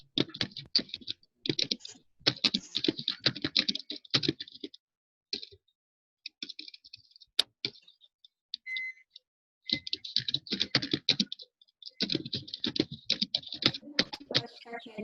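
Someone types on a computer keyboard nearby, with bursts of quick, dense key clicks separated by short pauses and a few isolated taps, fairly quiet and without any talk.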